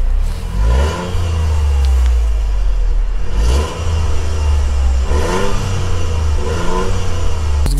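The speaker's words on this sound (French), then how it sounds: "je te laisse mettre un petit peu de gaz si tu veux et puis on va entendre ça" Toyota GR Yaris engine revving while driving, heard from inside the car as a strong, close engine and exhaust drone that swells and eases in repeated surges of throttle.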